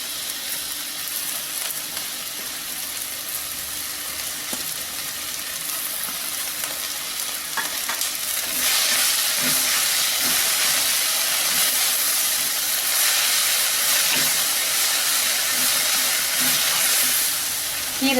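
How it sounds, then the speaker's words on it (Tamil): Drumstick leaves sauté in a pan with chili powder for a Tamil kootu, sizzling and hissing steadily up close and growing louder partway through, with a few soft stirring clinks. "கீரை நல்லா வதங்கட்டும்."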